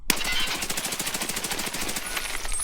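A gun in the video game Escape from Tarkov fires a rapid, unbroken automatic burst. Loud, close shots repeat evenly for almost three seconds with no talking over them.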